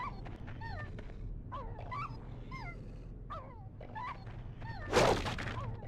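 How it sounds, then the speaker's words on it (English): A dog in the Fallout video game gives a looping whimpering yip, the same short sound effect repeating several times at moderate level, with a louder burst near the end. "This dog is also stuck playing the same sound effect."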